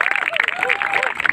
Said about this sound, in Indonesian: Tepuk tangan untuk Kalirejo